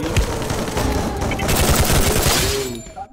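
Rapid bursts of gunfire rattle almost continuously for about three seconds, loud and close, with dense overlapping shots before trailing off at the end.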